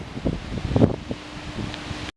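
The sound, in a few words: wind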